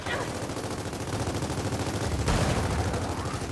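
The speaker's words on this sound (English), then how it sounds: "just keep shooting that pod" Rapid automatic gunfire in Gears of War 4 hammers away at a pod, a dense and continuous burst of shots that stays loud throughout.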